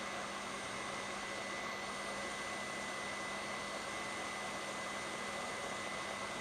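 A KitchenAid stand mixer whisks mashed potatoes with a steady, even motor whir and airy hiss that holds unchanged throughout, fairly quiet and with no voices.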